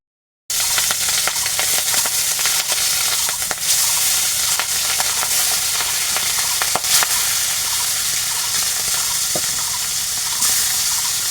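Pabda fish fries in a pan with a loud, dense, continuous sizzle of hot oil, steady throughout with faint scattered crackles and occasional utensil taps, close up and without talk.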